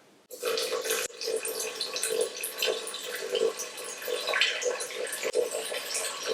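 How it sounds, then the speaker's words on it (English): Water is poured out for sourdough bread dough, about 300 ml, as a steady splashing, gurgling stream that starts suddenly and runs on close by for several seconds. "so the next step is 300 ml of water."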